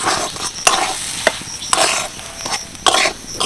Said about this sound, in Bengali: এবার ভালো করে মিশিয়ে নিয়ে একদম শুকনো শুকনো করে নিলেই কিন্তু পুরটা রেডি হয়ে যাবে